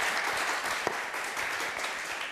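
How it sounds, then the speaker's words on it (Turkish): A television quiz-show studio audience claps together, sustained applause at a moderate level that holds steady through the clip with no talk. "Bir alkışlayalım"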